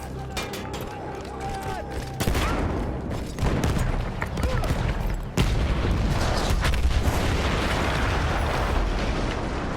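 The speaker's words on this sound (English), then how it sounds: "That explosion was one of the sweetest sights of the war for me." Battlefield 1 combat with explosions and gunfire, loud and dense throughout, with sharp blasts around the two- and five-second marks under continuous battle noise.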